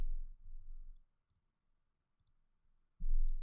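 Crisp mouse clicks from an alt-click on a computer, a few sharp isolated ticks spaced apart over quiet background with brief low thumps at the start and end.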